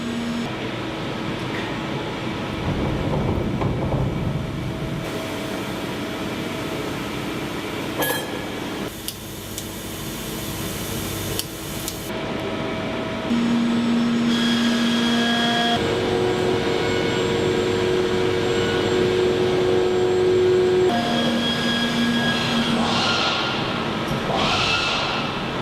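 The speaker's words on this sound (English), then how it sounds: "The machine is installed with a standard set of cutting heads, which it can mount by itself." A CNC machining centre cuts parts for the Bloodhound SSC land-speed vehicle in a workshop, giving a sustained mechanical whir with rising spindle whines and steady tones, fairly close and uninterrupted by voices.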